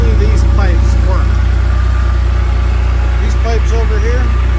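A 1985 Porsche 930S engine idles with a steady, loud low rumble that runs continuously, while a voice talks over it.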